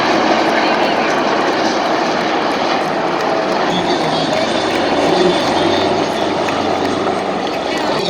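Military aircraft roar overhead in a flying display at a 23 March parade rehearsal at the Parade Ground in Islamabad, a loud continuous engine drone filling the whole stretch while a commentator talks over it.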